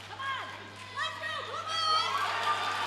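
Crowd at a women's world classic bench press championship cheers and shouts in a rising, sustained roar, with an announcer talking over it.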